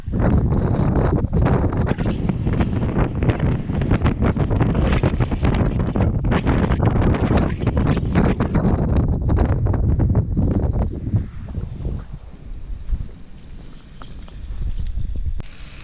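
Strong wind roars and buffets the microphone steadily for about eleven seconds, then drops to a quieter gusty rush that swells again near the end.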